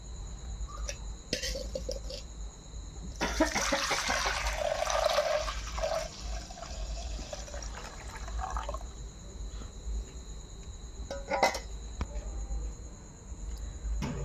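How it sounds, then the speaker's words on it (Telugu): Water splashes and pours from a bowl into a metal pot holding milk for coconut milk rice, a fairly close broadband gush that settles into a steady trickle, with occasional clinks. "ఇప్పుడైతే ఒక గిన్నెతో నీళ్ళు వేస్తున్నాను"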